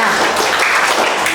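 A brief burst of dense, steady clapping from a group of students in a classroom, loud and close.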